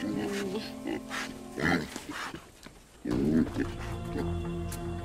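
Pigs on a rural Filipino property grunt and oink in short, rough bursts, a few close snorts standing out over a noisy background.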